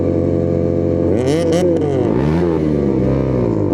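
A nearby Bajaj Dominar touring motorcycle engine idles at night, then revs up and down in loud, rising and falling bursts.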